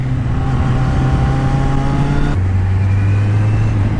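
A motorcycle circles a karting track on a lap, its engine holding a steady, loud drone that drops to a lower pitch partway through as the gear or throttle changes, close and continuous.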